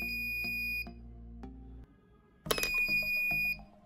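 The buzzer of an IC 555 vibration detection alarm circuit gives off steady, shrill electronic tones that cut out briefly and resume in pulsing bursts, close and fairly loud with no voices.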